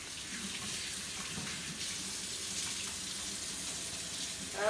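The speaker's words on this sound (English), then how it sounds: "let me give my hands a wash" Hands are washed under a running kitchen tap, with a steady, close wash of water and splashing that stays constant throughout, ending with a brief louder gush.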